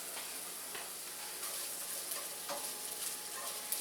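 Scrambled eggs sizzle and fry in a pan, a continuous bright hiss broken by soft scraping strokes as they are stirred, close and alone without voices.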